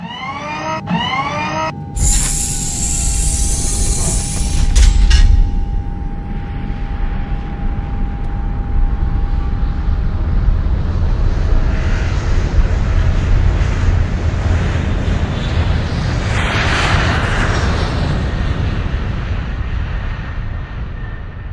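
A passenger airplane takes off: a brief clatter gives way to a loud, steady engine roar that swells and holds, with a rising whine near the end.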